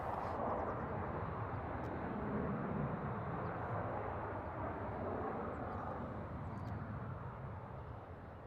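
A jet airliner rolls down the runway on takeoff at Toronto's airport, a steady, loud broadband engine roar that holds evenly throughout and eases slightly near the end, with no voices over it.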